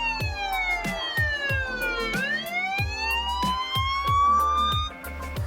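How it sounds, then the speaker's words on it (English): An electronic siren wails in long sweeping rises and falls, loud and close, played from a phone speaker with a rhythmic thudding pulse beneath it. "And this is the full siren."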